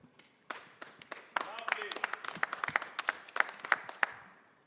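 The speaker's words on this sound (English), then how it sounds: "why are you clapping the hands?" Hands clapping at a fight-week press conference for a combat sports event, a quick uneven run of sharp claps building in pace, close by, with faint room chatter behind.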